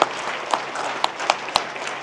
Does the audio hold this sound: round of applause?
yes